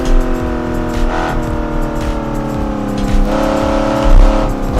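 Vintage GT car in a racing game screaming at high revs, engine note rising and dipping through gear changes, with thumping jolts as the tires clobber curbs, loud and close with no talk.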